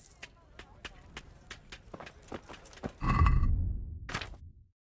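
A horse in a video game trots with quick, crisp hoof clops, then breaks into a loud close snort or whinny before falling silent.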